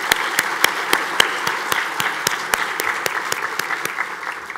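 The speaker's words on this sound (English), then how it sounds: "Let's give her another round of applause." A luncheon audience claps in sustained, dense applause, with sharp individual claps standing out close by throughout.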